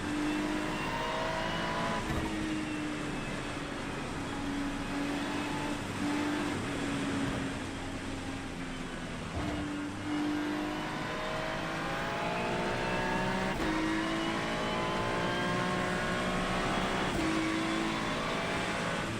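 A GT race car engine drones steadily in an IMSA sim racing game at the Le Mans circuit, with sustained revving and pitch shifts through gear changes and a few brief dips.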